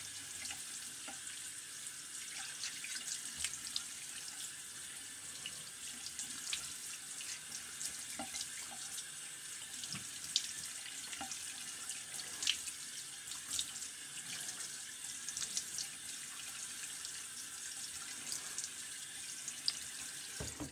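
Tap water runs steadily into a bathroom sink while a Weber razor is rinsed during a shave, a soft continuous splashing stream with small irregular clinks and drips, fairly quiet.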